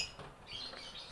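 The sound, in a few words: lovebirds chirping in a simple cage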